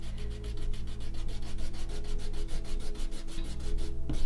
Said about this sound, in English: So here's my rubber again. Lightly rubbing out everything I've drawn